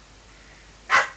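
A single short, sharp dog bark from the video game Saints Row: The Third, close and loud after a quiet moment.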